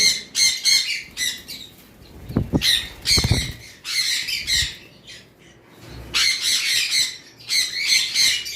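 Conure parrots in a bird shop, including double red factor birds, let out harsh, shrill squawks in repeated bursts, several birds calling close by with short pauses between volleys.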